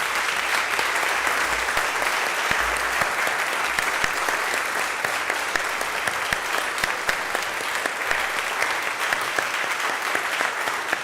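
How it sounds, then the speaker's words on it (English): An audience gives a steady, loud round of applause for a sociology lecturer at the close of a talk, dense clapping sustained evenly throughout without pause. "Let's give Dr. Seto one last round of applause."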